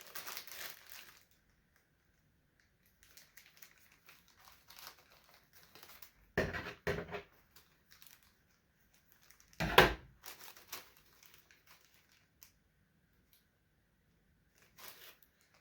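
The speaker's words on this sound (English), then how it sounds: "They want you to cut it with scissors." Scissors cut through plastic retail packaging at a home workbench. Faint, intermittent crinkles and snips are broken by two brief, louder bursts of crackling plastic, with long quiet gaps and no talking.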